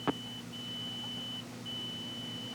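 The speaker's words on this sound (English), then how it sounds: "Who keeps beeping me?" A thin, high electronic tone from a pager rises over a low hum, sounding in long steady stretches with short gaps, faint and distant, with no talking.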